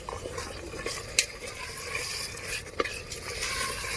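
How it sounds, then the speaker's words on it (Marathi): Raw mutton being roasted with masala in a pan over a village wood-fired stove, giving a steady soft sizzle and stirring scrape with a couple of sharper clinks, close and continuous. "आता टाकून घेऊ मटण, कारण की आपल्याला मटणासोबतच आपल्याला हे मसाला भाजायचा आहे"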